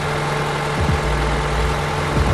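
A car engine idles steadily up close under the hood, a continuous low rumble with faint rising whines, during a check of an idle-up fault where revs drop and the engine stalls when the air conditioning switches on.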